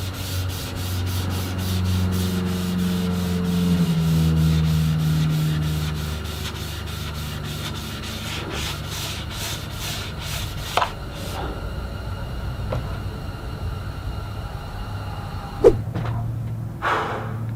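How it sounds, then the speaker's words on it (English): A mahogany guitar body is sanded by hand in steady back-and-forth rubbing strokes, close and continuous, then the rubbing stops and a few sharp knocks and thumps follow. "I want to sand everything up to at least 400 grit"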